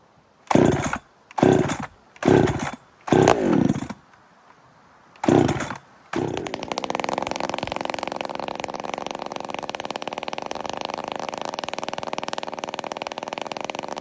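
A Husqvarna 372 chainsaw fitted with a custom exhaust pipe is pulled several times in short bursts, then fires up and runs loud and steady with a harsh, raspy roar close by.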